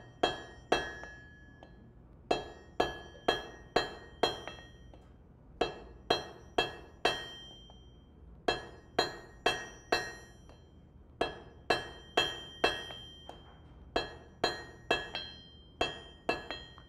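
Blacksmith's hammer drawing out a taper on hot steel, a steady run of sharp ringing metallic blows in groups of three to five with short pauses, close and clear with no talk.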